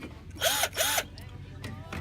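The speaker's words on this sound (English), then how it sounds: "drill" A power drill used on a barbecue table top restoration whirs in two short bursts, each spinning up and stopping, close by, with faint rattles of handling between them and no voices.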